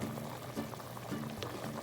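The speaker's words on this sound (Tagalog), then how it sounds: "Bubuksan na po natin, kumukulo na po siya." A pot of chicken pochero on the stove, simmering at a full boil with a soft, steady bubbling and gentle liquid churn, quiet and close, with no talking.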